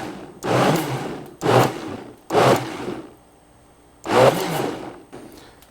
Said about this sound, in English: So make sure your blender is on low. You don't want to splash all over the place.